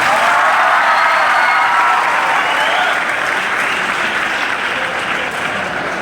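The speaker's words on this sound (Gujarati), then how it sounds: "એને ફરી આપણે તાળીઓના ગડગડાટથી વધાવી લઈએ" Sustained, loud applause fills a school Guru Purnima celebration at Buhari High School, a dense and steady clapping crowd that holds evenly for several seconds with no talk over it.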